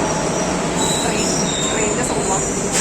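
Train moving through Thrissur railway station, a dense continuous roar with high metallic wheel squeal running throughout, loud and close.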